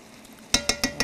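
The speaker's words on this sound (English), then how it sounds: "You want to give that a good stir." Four crisp clinks of a spoon against a pot while beef stew with onions is stirred over low heat, evenly spaced and fairly close, after a quiet start.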